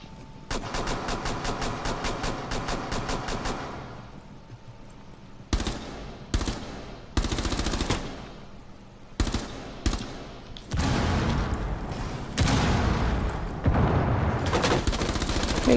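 Rapid automatic gunfire from a Rainbow Six Siege match, with long dense bursts and short sharp volleys separated by brief pauses, loud and close throughout with no talk.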